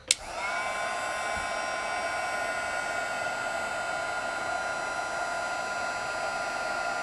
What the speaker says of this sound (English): now it's time to emboss this image